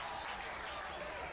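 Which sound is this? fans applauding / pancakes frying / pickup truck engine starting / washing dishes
fans applauding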